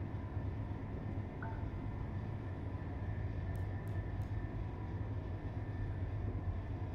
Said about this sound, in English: There is an approaching train, but I should be on the correct track, so it shouldn't be a problem.